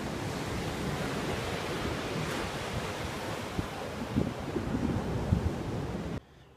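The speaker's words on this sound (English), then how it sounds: "Some pretty good sized waves out there today." Sizable ocean surf breaks offshore in a steady, wind-blown roar, with some low rumbling surges and wind buffeting the microphone, before cutting off abruptly.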